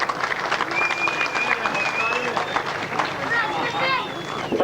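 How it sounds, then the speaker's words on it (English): A grasstrack race crowd applauds sidecar riders, with scattered outdoor clapping and cheering mixed into general babble, while whistle-like tones drift over the top. "a round of applause for them as they come up"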